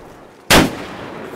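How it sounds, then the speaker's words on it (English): In DayZ, a single sharp gunshot cracks out loud and close. It breaks a quiet background and leaves a short ringing tail. "Someone's shooting at us."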